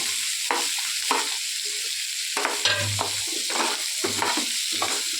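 Grated coconut fries in hot oil with a steady, bright sizzle, broken by bursts of scraping and stirring at irregular intervals. The sound is close and fairly loud, with no talking.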